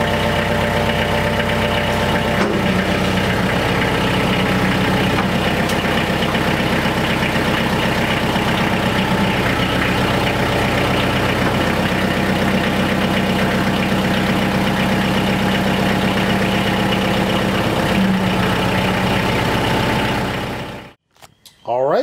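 Loader engine idling steadily after a leaking hydraulic hose was replaced, a continuous mid-to-low engine drone with a faint knock, fairly close and loud, running alone until it cuts off abruptly near the end.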